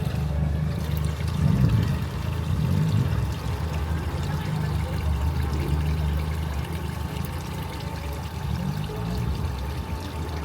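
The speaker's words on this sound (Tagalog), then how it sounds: "Ang ganda ng tubigan nila." Water pours steadily into a decorative water feature at a pet center, a continuous splashing rush close by with faint background activity.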